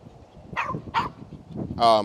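During a dog training group class, a dog gives a few sharp barks and a higher whining yelp, close by, mixed with people talking in the background.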